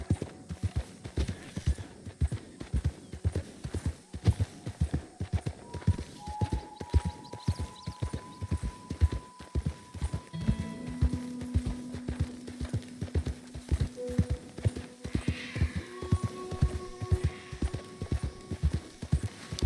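A horse's hooves clip-clop in Red Dead Redemption 2, set in New Austin, with a steady rhythmic trot of close, distinct hoofbeats that run the whole way through over faint tonal game sounds.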